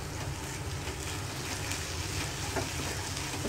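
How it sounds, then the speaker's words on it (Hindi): Schezwan sauce frying in a pan over medium flame, a dense continuous sizzle and bubbling with faint stirring, steady and close throughout. "अच्छी तरह से मिक्स कर लेंगे कलर को और 5 मिनट तक भून लेंगे।"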